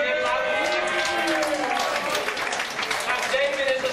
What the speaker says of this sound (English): Can I have a big cheer?